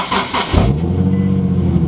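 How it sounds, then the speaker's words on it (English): Car engine starting for the first time of the day on a weak battery: a brief sluggish crank of a few slow turns, then the engine catches and settles into a steady, close idle hum. "Alright, gonna do the first start of the day."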